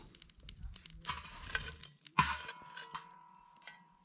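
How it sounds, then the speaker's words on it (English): Chestnuts roast under glowing embers in a wood fire, giving quiet, irregular crackles, pops and faint hissing, with one sharper snap partway through and no voices. "We roast the chestnuts under the embers."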